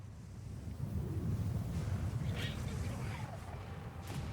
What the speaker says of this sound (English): Lightning hitting the giant lightning rods